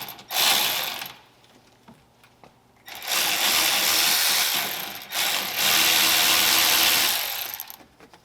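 Ratchet loosening bolts on a bracket of a Ram 1500 pickup during an intercooler install, heard up close as two long bursts of rapid clicking separated by short pauses.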